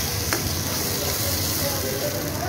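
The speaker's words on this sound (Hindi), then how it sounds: "इसमें आप टमाटर डाल देंगे" Tomatoes dropped into a pan of sizzling daal mash, a steady frying hiss with a brief clatter near the start, continuous and close.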